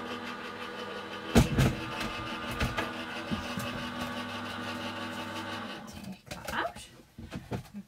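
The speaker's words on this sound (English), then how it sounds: "I'm going to run that through the die cutting machine. So just running that through my Gemini." A Gemini die cutting machine running: a steady mechanical motor hum with rhythmic clicking and a sharp clunk near the start, continuing under someone talking before winding down into quieter handling noises.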